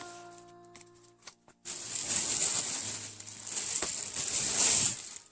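Loud, close plastic wrapping crinkling and rustling continuously after a few brief taps, with a bright, crackly texture.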